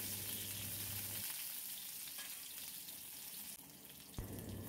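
Chopped garlic fries in oil in a pan for a Peperomia pellucida greens dish: a continuous close sizzle and crackle throughout, with brief shifts in the background hum.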